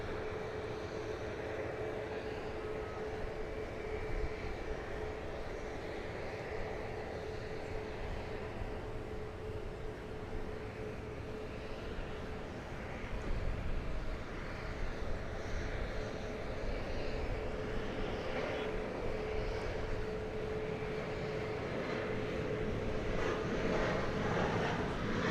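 A heavy Japan Air jet airliner takes off at DFW Airport, its steady broadband engine roar building and rising a little over nearly half a minute, heard from a distance with no talk.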